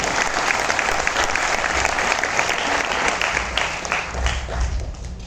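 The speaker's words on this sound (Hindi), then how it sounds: "उसके लिए अपने आप के लिए तालियां मारिए।" Audience at a business plan seminar breaks into sustained applause, dense continuous clapping from a large crowd filling the room at steady loudness.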